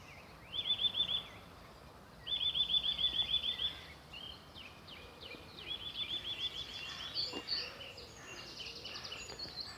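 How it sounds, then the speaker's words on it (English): Birds sing in a spring park on a quiet walk, several bright trilling phrases rising and falling in short repeated bursts, moderately near, with softer chirps scattered between them and no talking. "Listen to those birds sing, isn't that lovely?"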